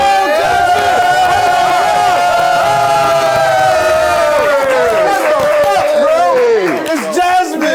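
Studio guests on a talk show cheer, whoop and clap as a guest enters, a loud, dense crowd roar of overlapping shouting voices sustained for several seconds before thinning out.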